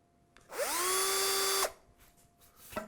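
Power drill countersinking screw holes in wood for a Trev Wilkinson guitar kit, one close whine that spins up, holds steady for about a second while biting, then cuts off, followed by a brief clack.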